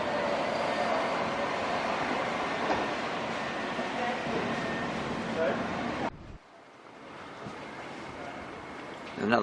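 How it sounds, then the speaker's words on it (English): A tram pulls into a stop in Canberra on the Gungahlin line, its steady rumble and rail noise loud and close for about six seconds before dropping away, with people talking nearby. "There's another tram coming in."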